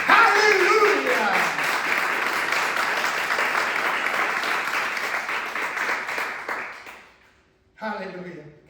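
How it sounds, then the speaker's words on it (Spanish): A Spanish-speaking church congregation gives sustained applause for Jesus Christ, a broad steady wash of clapping that fades out; a voice speaks once the clapping ends. "¿Le puede dar un aplauso a Jesucristo?"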